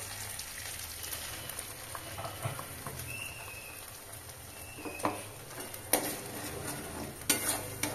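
Spice paste fries and is stirred in a pan: a quiet, steady sizzle with scattered soft scrapes and a few sharper utensil knocks toward the end, heard up close with no voices.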